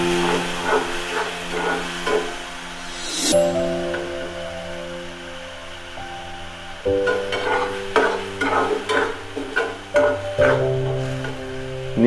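Ground tomato stirred into a frying paneer masala with ginger paste in a Kerala-style pan, steady sizzling and hiss under repeated scraping stirs, with no talk.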